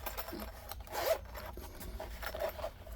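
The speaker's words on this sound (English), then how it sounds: "The zipper on it works great." A zipper slides open on a compact fabric storage case for a Hapstone knife-sharpening system and its premium CBN whetstones, heard as several short, close rasping pulls.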